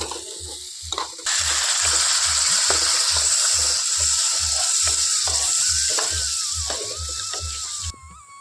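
Water poured into a pan of frying potatoes sets off a loud, sustained sizzle and bubbling hiss after a brief quieter start, with a regular low pulsing underneath throughout.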